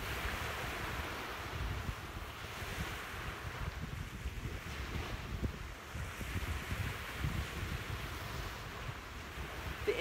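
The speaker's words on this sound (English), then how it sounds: "The breeze is nice today. It's not a cold breeze," Cool breeze and gentle waves washing onto a beach at sunrise, with wind buffeting the microphone in a constant low rumble and soft surf beneath it.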